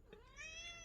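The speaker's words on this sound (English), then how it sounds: "Oh, my cat's back." A pet cat gives a single drawn-out meow that rises and holds, fairly quiet and close, with no voices over it.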